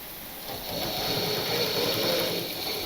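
A sewing machine stitches fabric for a machine cover, running in a steady, close mechanical whir with a fast even rhythm throughout and no talking.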